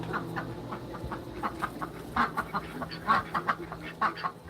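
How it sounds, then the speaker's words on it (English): Ducks quack in a barnyard near a chicken house, a busy cluster of repeated quacks and clucks over a steady outdoor hum, fairly close. "there's the ducks"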